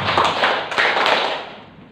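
Hand claps in a quick pattern, dense and close, with a broad burst of claps early on that fades slightly toward the end.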